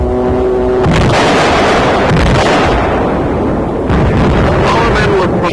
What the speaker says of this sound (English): Watch this direct hit by a Jap shell.